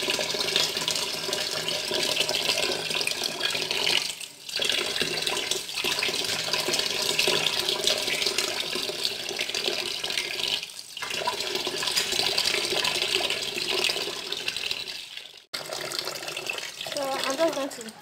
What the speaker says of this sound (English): I'm just going to wash this.